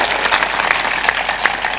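Audience at a sermon clapping on request, a lively continuous patter of many hands close by and loud, with scattered sharper claps standing out.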